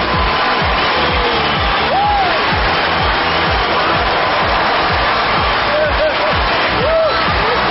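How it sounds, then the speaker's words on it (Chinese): A studio audience on a Chinese talk show claps and cheers steadily to welcome a famous director and his actress wife. The loud, dense applause runs throughout, with a few whistle-like whoops rising above it. "让我们掌声有请著名导演郭靖宇以及他的太太，也是我们剧中的主演岳丽娜，欢迎两位。"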